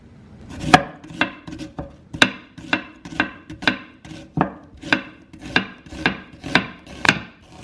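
A knife slices a sweet onion into very thin strands on a cutting board, about a dozen crisp, evenly spaced chops in a steady rhythm, close and clear with no talking.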